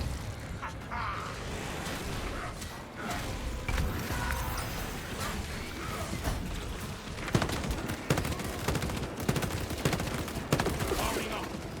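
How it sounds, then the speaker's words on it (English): Frag grenade and gunfire in a solo Helldivers-style shooter battle against bots; a dense, continuous stretch of rapid gunshots and blasts, with sharper bursts toward the end. "Frag grenade sent."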